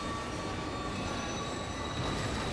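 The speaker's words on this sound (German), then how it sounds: "Zug!" Train in the video game The Darkness 2, a continuous loud rumble of rolling wheels with faint high squealing tones, heard alone.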